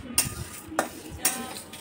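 Spices are roasted in a pan and stirred for a raw mango sweet-sour chutney, with three sharp scraping strokes against the pan over a faint sizzle.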